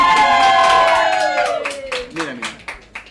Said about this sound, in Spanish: recibimos un fuerte aplauso a Dayanara.